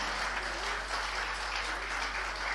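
Audience applause rolls steadily through a hall during a Tamil debate-stage speech, a moderate, continuous patter of many hands with a low electrical hum beneath it.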